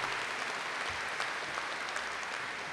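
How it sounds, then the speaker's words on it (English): Steady applause at a high school commencement ceremony for the music department, a continuous wash of many hands clapping at even loudness throughout. "let's give them a round of applause for all the work they've done"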